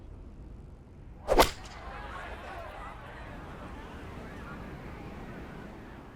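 A fully lofted 7-iron struck uphill into the wind in EA Sports PGA Tour at the Masters, one sharp crisp impact followed by a soft crowd-like ambient wash.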